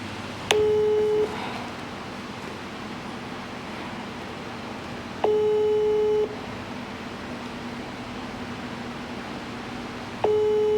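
A telephone ringback tone sounds three times in long, evenly spaced beeps over a faint steady hiss, with no voices.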